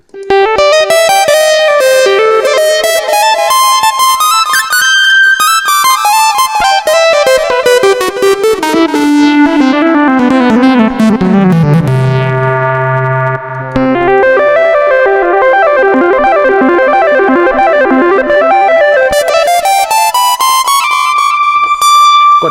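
Synthesizer tones from a Roland Sonic Cell sound module glide and sweep through a continuous melodic line, bright and buzzy with echo and effects, dipping low in the middle before rising again.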